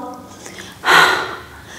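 During a yoga breathing exercise, a person makes one forceful exhale through the mouth with a breathy "ha" sound. It is a short, close burst of air after quiet breathing.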